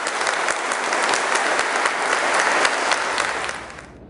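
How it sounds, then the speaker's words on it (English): A church congregation and choir break into sustained applause during a standing ovation, a dense, loud wash of clapping hands that holds steady before fading out near the end. "A round of applause and a standing ovation from the choir and entire"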